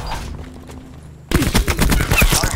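Burst of rapid gunfire in Call of Duty Black Ops 4 team deathmatch on the Madagascar map: a quiet stretch with faint tones, then sudden loud, dense overlapping shots that keep going to the end.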